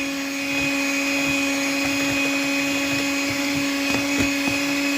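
An electric mixer whirs steadily at close range, holding one even motor tone while it beats egg whites to a white foam, with faint knocks of the beaters against the bowl and no talking.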